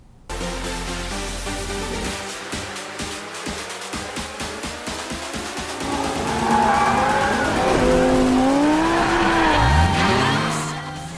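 Race cars lapping the Nürburgring in Forza Motorsport 5, engines roaring loud and close with rapid gear-change pulses, then a rising whine and tire squeal as a car skids through a corner before fading.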